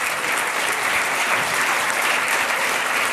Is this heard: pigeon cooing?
no